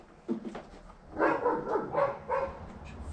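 Several dogs bark in short, loud bursts, a few quick yaps early and then a denser cluster of barks in the middle, in an outdoor setting near someone servicing a dirt bike's air filter.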